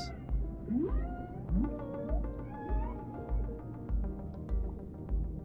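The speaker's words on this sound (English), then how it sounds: "Oh, a dolphin." Dolphin calls in the underwater game Dave the Diver, a series of rising whistles and chirps over a rhythmic pulsing backdrop of music, clear and close.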